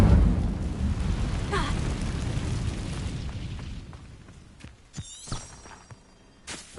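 A fire spell called Incendio is cast in Hogwarts Legacy, bursting out as a loud rumbling blast that fades over a few seconds, followed by scattered sharp pops and crackles and a bright ringing shimmer.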